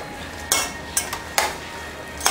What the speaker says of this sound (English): the hamburger's cooking up nicely